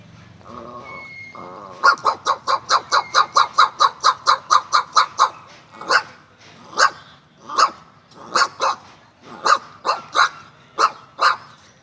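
A voice imitates an Alsatian dog barking: a fast run of about sixteen sharp, evenly spaced barks, then slower, spaced barks in irregular pairs, loud and close.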